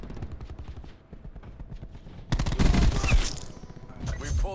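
Rapid automatic fire from the Demon weapon in Black Ops 4, first in quieter distant bursts, then a loud close sustained volley of shots in quick succession.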